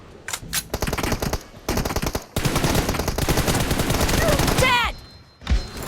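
Rapid automatic gunfire in a video game: loud, close bursts separated by short gaps, then a long continuous volley, with a brief voice near the end.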